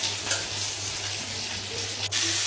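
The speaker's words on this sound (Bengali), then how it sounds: "এখন লতি ঢেলে দিচ্ছি।" Taro stolons hit hot oil with browned onions in a pan, producing a steady loud close sizzle and crackle that runs throughout with a brief dip near the end, no talk over it.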